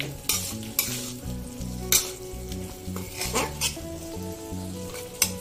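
Mutton liver chorchori with green chillies and garam masala sizzles in a pan while a spoon stirs and scrapes, with irregular metallic clinks and scrapes over a continuous frying hiss.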